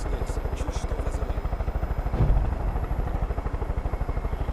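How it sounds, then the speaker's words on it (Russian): Helicopter in Far Cry 5 setting down about 200 meters away, a steady rapid rotor chop throbbing low and close throughout, with a brief louder swell midway; a voice talks over part of it. "вот просто вертолет садится у них там, ну, в 200 метрах от них"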